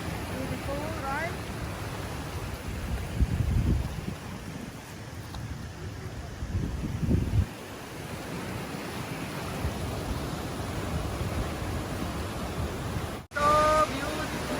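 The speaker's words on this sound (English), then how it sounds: "So beautiful waterfall. Look, very big." A large waterfall roaring outdoors, a steady broadband wash of falling water running throughout, while people talk over it at a few points.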